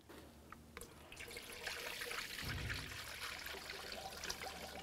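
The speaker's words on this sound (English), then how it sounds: "Now we'll continue on by filling this up with 50-50 pre-diluted manufacturer specified coolant." Manufacturer-specified 50-50 pre-diluted coolant trickles and splashes through a funnel into the radiator of a 2004-2015 Nissan Titan, a soft, steady liquid pour that runs without a break and stays faint.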